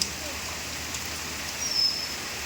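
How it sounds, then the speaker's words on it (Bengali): Steady rain pours down in a dense, even hiss of falling water that holds constant throughout, with no voices heard. "বৃষ্টি এখনও কমেছে অনেকটাই স্বাভাবিক হয়েছে"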